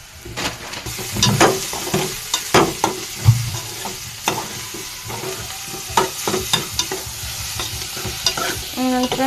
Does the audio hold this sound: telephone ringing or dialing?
no